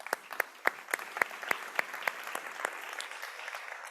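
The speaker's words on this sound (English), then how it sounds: "I would like you to join me in a round of applause for having them here" Audience at an international forum on migration statistics claps for the panel, a sparse, thinning applause with a few sharp, distinct claps standing out at the start and fading toward the end.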